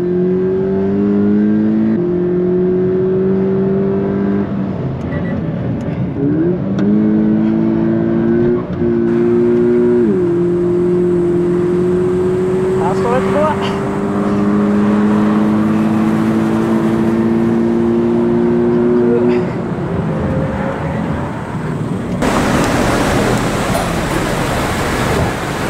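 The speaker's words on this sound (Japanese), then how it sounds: "あとはまあこれ2リッターのエンジンということでね、" A new Toyota 86 or Subaru BRZ with a 2-liter engine accelerates hard, the engine note climbing steadily through several gear shifts, loud and close, with a burst of broadband noise near the end.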